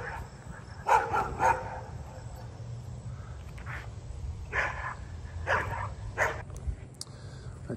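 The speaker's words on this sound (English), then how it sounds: "Dog is not thrilled with me." A dog barks in short bursts, a couple of quick barks near the start and a few more spaced later, fairly close over outdoor background noise.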